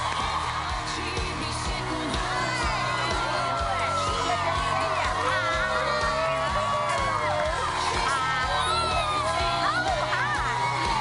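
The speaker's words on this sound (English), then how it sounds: "Wow, what an enthusiastic crowd." A studio audience cheers for Reba McEntire, loud and sustained whoops, yells and applause filling the room without pause.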